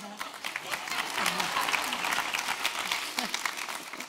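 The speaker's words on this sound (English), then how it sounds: "I'm kind of accustomed to hearing applause before I even say anything." Applause from a luncheon audience, a moderately faint, sustained wash of clapping across the room with some talk and murmuring running through it.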